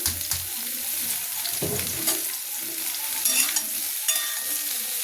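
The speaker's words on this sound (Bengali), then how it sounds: "আগে ঝিঙেটা একটু ভেজে নেব" Ridge gourd frying in a large non-iron wok gives a steady, close sizzle, with stirring scrapes and brief clattery bursts throughout and no talking.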